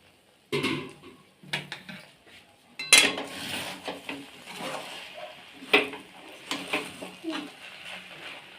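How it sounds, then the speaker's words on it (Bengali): A pot lid lifted off Gobindobhog rice cooking for Basanti pulao, giving a few short metallic clinks and clatters of cookware, with birds cooing faintly in the background. "এখন আমি ঢাকনাটা খুলে দেখে নেব চালটা সেদ্ধ হয়েছে কিনা।"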